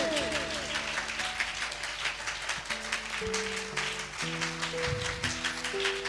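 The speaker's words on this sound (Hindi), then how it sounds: "पीछे सभी ताली बजाएं जोर से।" A church congregation at a sermon clapping loudly in steady rhythm along with keyboard music, dense continuous applause filling the room.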